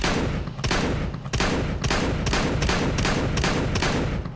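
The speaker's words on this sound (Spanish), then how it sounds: "Y vamos a disparar" An XM1014 shotgun fires repeatedly in Counter-Strike 2, eight loud, sharp blasts at a steady semi-automatic rhythm, each with a brief booming tail, close and alone.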